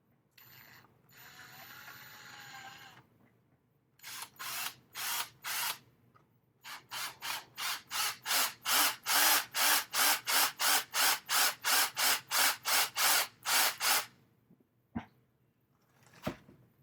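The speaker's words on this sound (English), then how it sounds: "We're going to drill a hole in here first" A power drill bores a hole in repeated short bursts, about a dozen rapid whirring pulses close up, with a brief pause and a couple of clicks after.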